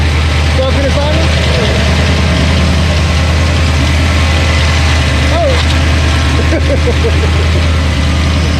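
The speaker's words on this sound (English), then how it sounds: "See how good it's idling?" A Chevrolet S10 truck with a 302 HO small-block Ford V8 idles steadily and loud up close, a smooth low rumble running the whole time with brief voices over it.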